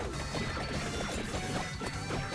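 The wine glass weapon in Ode to Castlevania smashes in rapid, overlapping crashes, loud and steady over a thick bed of game music and battle effects.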